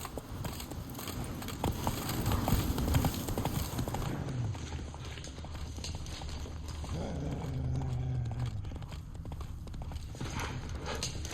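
Hoofbeats of Roach, Geralt's horse in The Witcher 3, gallop in a steady rapid clip-clop rhythm, loud and close, continuing throughout over ambient game sound.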